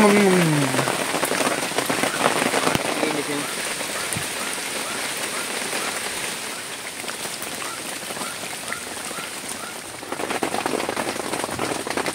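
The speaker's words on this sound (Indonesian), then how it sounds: "Hujan deras pun selesai." Heavy rain drums steadily on a tarp-covered cabin in a forest, a dense, continuous hiss that stays loud throughout with no talking.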